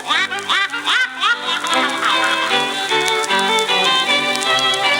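A drake duck quacks in a run of several bright, nasal calls near the start, heard over a busy musical background that continues throughout.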